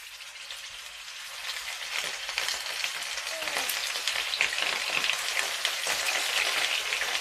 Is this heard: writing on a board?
no